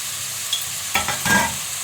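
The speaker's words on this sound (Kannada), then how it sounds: "ಅದಕ್ಕೋಸ್ಕರ ನಾನು ಶುಂಠಿನೂ ಕೂಡ ಇದ್ರ ಜೊತೆಗೆ ಹಾಕ್ಕೊಂಡು ಚೆನ್ನಾಗಿ ಫ್ರೈ ಮಾಡ್ಕೊತಾ ಇದ್ದೀನಿ." Chopped ginger, garlic and green chillies frying in oil alongside onions give a constant sizzling hiss, broken by a couple of quick scraping stir strokes near the end.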